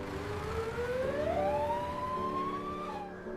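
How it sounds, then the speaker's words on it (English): A siren wails upward and holds a long rising tone over traffic rumble, sounding moderately distant before it cuts off. "he hears the last sound of police cars checking the zoo"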